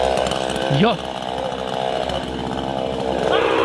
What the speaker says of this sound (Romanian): Băi, a luat drujba!